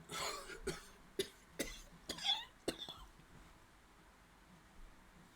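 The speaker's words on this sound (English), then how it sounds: "I got an actual cough in that last bit" A series of sharp coughs in quick succession, fairly close, with short gaps between bursts, then quiet.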